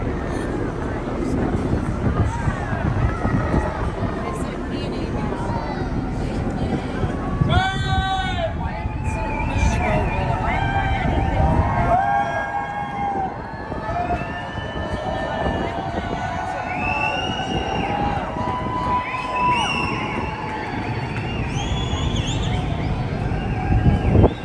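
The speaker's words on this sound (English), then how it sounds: "there were lots of cheering and whistling going on" A crowd aboard the Norwegian Epic cruise ship cheers and shouts, with repeated shrill whistles rising above the noise, set against wind buffeting the microphone and a steady low rumble.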